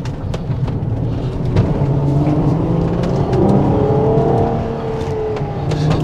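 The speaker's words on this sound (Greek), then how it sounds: "διάλεξαν αυτόν τον V12 γιατί είναι η τέλεια" Ferrari Purosangue V12 engine roaring steadily and loudly up close, with revs swelling and easing over several seconds in a continuous, layered drone and no voices.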